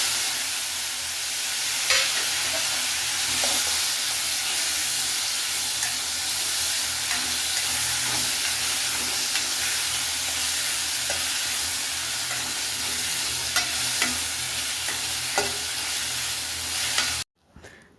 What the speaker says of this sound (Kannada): ಟೊಮೆಟೊನ ಮೆತ್ತಗಾಗೋವರೆಗೂ ಕೂಡ ಇದನ್ನು ಹುರ್ಕೋಬೇಕು.